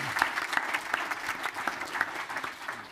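Applause from the audience at a panel discussion, a moderate wash of many hands with a few distinct nearer claps standing out, heard alone at a fairly soft level.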